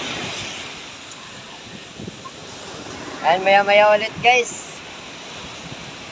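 Strong wind sweeps a beach and carries sand during heavy rain, making a steady, close, blustery roar. Someone speaks briefly over it near the middle.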